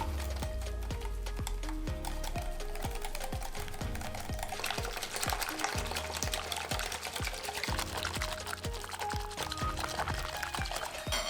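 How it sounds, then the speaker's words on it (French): A lemon cream mixture thickened with cornstarch is stirred in a bowl, giving quick, steady clicking and scraping strokes that run throughout over continuous background music. "J'y ajoute ensuite la fécule de maïs. Et je mélange à nouveau."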